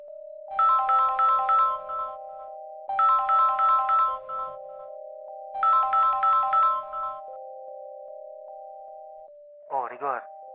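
A phone ringtone plays an outgoing call as a repeating musical ring, three loud bursts over a steady tone, then a short warbling signal near the end, heard clearly on its own.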